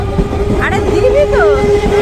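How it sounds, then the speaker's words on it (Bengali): A train rolls past a closed level-crossing gate, a steady rumbling drone with a faint horn-like tone running through it. Voices talk loudly over it nearby. "ট্রেনটা চলে যাচ্ছে তো"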